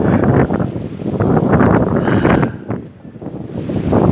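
Strong wind buffets the microphone outdoors during an interview, a loud continuous low roar with gusts that ease briefly near the end before building again.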